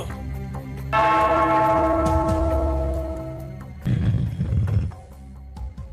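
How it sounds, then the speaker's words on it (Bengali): A bell is struck once and rings out with a long, sustained metallic tone that slowly fades, followed by a rougher clanging burst. "ওই ঘন্টাটা বাজাও, বাজাও।"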